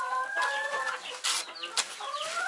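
Chickens cluck and squawk nearby in quick, overlapping calls, with a rooster's voice among them.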